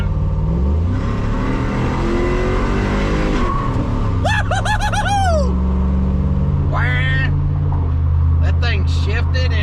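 A 1968 Pontiac Tempest revs hard and climbs through a gear change, its engine roaring loud and close, then its rear tires chirp and squeal in short bursts as the back end slides out.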